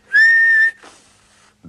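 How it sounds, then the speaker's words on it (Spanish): A person whistles one clear, steady sustained note, loud and close, followed by a brief softer breathy trailing sound and a short low thump at the end, with no talk. "Silbaré yo por usted."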